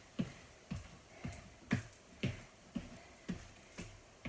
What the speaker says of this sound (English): Just march for 3 and a little clap.